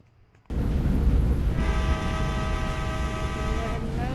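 In the video game Indian Bike Driving 3D, a loud train horn blares with sustained harmonic tones over steady rumbling engine noise, starting abruptly and holding for several seconds.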